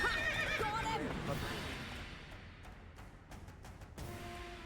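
Roach, Geralt's horse in The Witcher 3 video game, lets out a loud, whinnying neigh that trails off, followed by faint hoof clip-clops and game sounds.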